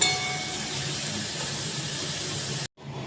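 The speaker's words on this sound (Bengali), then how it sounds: "ক্যাপসিকামগুলো দিয়ে দিলাম, কড়াইশুঁটি দিয়ে দিলাম আর একটু কষিয়ে নেব।" Capsicum and green peas sautéing in a hot pan for vegetable spring roll filling, a loud, steady sizzling hiss that runs for most of the clip and then drops off abruptly near the end.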